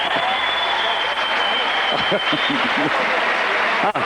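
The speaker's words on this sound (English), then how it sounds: "a huge round of applause from this audience" A crowd at the 2003 European Weightlifting Championships, +105 kg class, sends up loud, dense applause that fills the hall without a break, while commentators talk over it.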